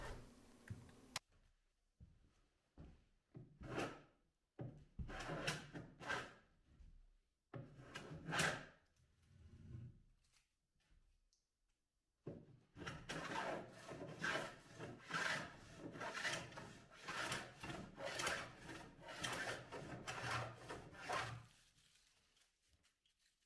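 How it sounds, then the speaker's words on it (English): Repeated scraping, rasping strokes of a hand plane across wood, in bursts with short pauses, close by and fairly quiet. "I started working with a planer on them instead of a router"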